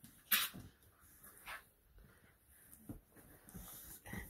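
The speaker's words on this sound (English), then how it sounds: "Puppy's playing with great grandma." Several puppies play with an elderly dog, giving scattered soft snorts, snuffles and breathy whimpers with brief scuffling bursts, fairly faint and close by.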